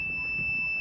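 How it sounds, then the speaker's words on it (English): A steady electronic buzzer alarm from a temperature detection prototype drones continuously, loud and unbroken, with faint low background noise underneath. "So the buzzer goes off"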